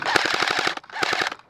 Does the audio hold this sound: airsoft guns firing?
yes